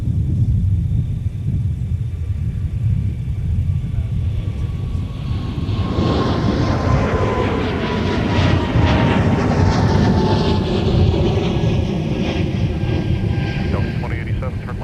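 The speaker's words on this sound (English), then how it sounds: "here is yet another departure of the Airbus A220 off to San Jose" An Airbus A220 departing MSP airport, a loud steady jet roar and rumble that swells with a rising whine as the aircraft passes, fairly near and continuous throughout.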